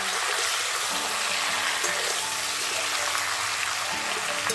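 Mixed summer vegetables frying in a pan for a Bengali-style fish curry, giving off a dense, continuous loud sizzle close by, with no talking.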